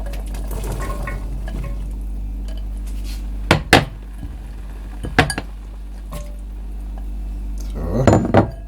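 Vegetables go into a pot of oxtail goulash with swede, a few clear metallic clinks of a utensil against the pot over a steady low kitchen hum, ending with a brief clatter and splash.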